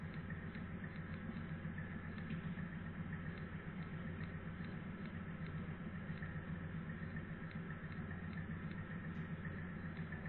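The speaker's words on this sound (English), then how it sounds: "The noise you hear is the vacuum pump slowed down" A steady, low mechanical hum from a vacuum pump, slowed down, runs continuously at an even, unchanging pitch, fairly quiet, with no voices.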